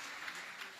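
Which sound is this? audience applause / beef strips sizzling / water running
audience applause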